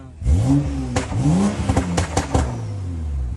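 A BMW 535 engine is revved in several sharp blips, its pitch rising and falling with crackling pops between them, loud and close throughout.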